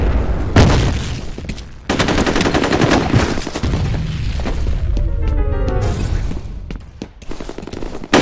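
A loud explosion and heavy gunfire from the shooter game F.E.A.R. Combat, sharp booming blasts and sustained automatic fire filling the whole stretch, with brief lulls between bursts.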